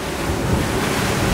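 Rushing water and wind noise roar steadily as a Nimbus T9X boat pushes through choppy water at about 46 km/h, engine at 4,100 rpm.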